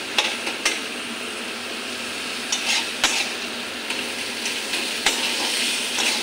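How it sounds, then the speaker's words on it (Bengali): Large fish pieces stirred together with spice masala in a pan, with a steady sizzle under intermittent clinks and scrapes of a utensil against the metal. "মাছ আর পুরো মশলাটা মিশে নিই।"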